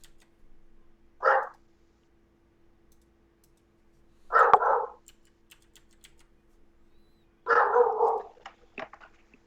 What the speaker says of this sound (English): I'm hearing your dog barking, Derek.